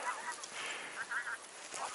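Wild geese calling during a spring goose hunt near Velsk, a distant flock giving repeated honking cries in open countryside, faint but steady throughout.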